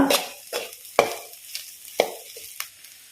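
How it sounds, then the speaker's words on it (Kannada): Egg curry masala stirred in a pan after salt goes in: six crisp spoon scrapes at a steady pace of about two per second over a light sizzle, close and clear, no talking. "ಉಪ್ಪು ಹಾಕಿ ಮಿಕ್ಸ್ ಕೊಡುವ"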